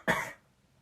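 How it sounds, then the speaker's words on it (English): A single short, close cough blends into a throat clear, a quick burst that fades within a third of a second. "That was a cough, but I was clearing my throat at the same time."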